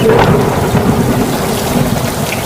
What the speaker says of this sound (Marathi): आकाशात विजेचा कडकडाट आणि ढगांचा गडगडाट